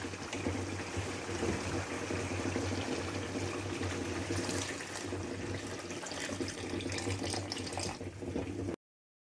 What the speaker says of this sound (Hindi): डेढ़ पाव पानी और ऐड कर दिया इसमें।